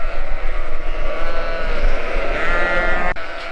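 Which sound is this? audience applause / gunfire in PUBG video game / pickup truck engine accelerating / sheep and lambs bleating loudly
sheep and lambs bleating loudly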